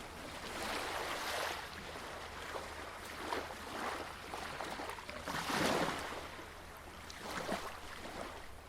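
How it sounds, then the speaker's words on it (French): Gentle ocean waves wash onto a sandy beach in slow, rolling swells, each surge rising and fading in a calm rhythm at moderate distance, with no voices. "le rythme des vagues qui se synchronise naturellement sur le rythme de votre respiration"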